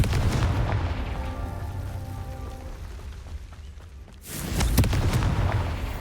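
A Confringo fire spell blasts out in Hogwarts Legacy, with a low rumbling hum before a sudden loud burst erupts near the end and rolls on as a heavy, booming crackle.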